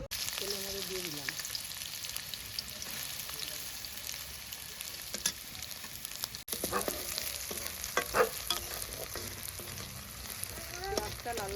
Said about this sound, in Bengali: পেঁয়াজটা লাল লাল করে ভেজে নিতে হবে একটু।